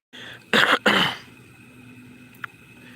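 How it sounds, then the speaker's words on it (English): Two harsh, close smoker's coughs in quick succession, followed by quieter background noise and a faint click. "Smoker's cough."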